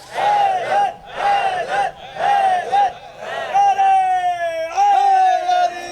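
Crowd at a religious gathering chanting back in unison in response to a Haidar slogan, loud rhythmic bursts of massed voices repeating in waves, with a lead voice calling out over them.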